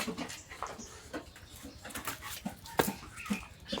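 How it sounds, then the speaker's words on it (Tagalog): A dog whimpers in short, soft whines scattered over a few seconds, with faint background noise and movement. "So, ilabas natin tong aso"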